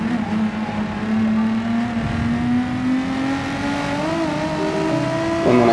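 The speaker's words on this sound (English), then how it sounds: "Now I overtake on the VGT Supra" A Toyota VGT Supra race car engine in Gran Turismo 7, a loud steady whine rising in pitch as it accelerates, with a brief dip mid-run, close and unbroken by talk.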